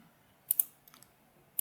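Computer mouse clicks while working in Fusion 360 CAD software: a quick double click, then a few faint taps and a final click, close and crisp in a quiet room.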